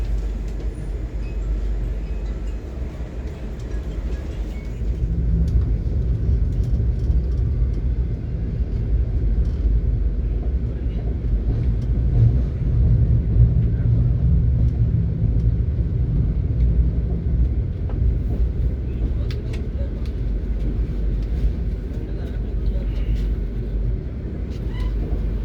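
Island Express train running in an AC 2 tier coach after departing Bengaluru at night: a steady low rumble and rolling clatter that grows louder after a few seconds, with faint squeaks over the continuous noise and no talk.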